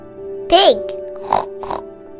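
A voice imitates a pig with a rising squeal followed by two short snorting grunts, close and fairly loud over a steady background hum.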